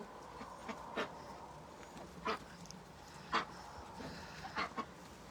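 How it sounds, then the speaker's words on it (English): Ducks beside a pond quack in short scattered bursts, several distinct calls spread across a quiet outdoor background. "here's the ducks coming. Quack, quack"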